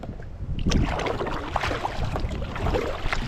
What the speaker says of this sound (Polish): mimo iż jesteśmy między wyspami to wieje wieje mocno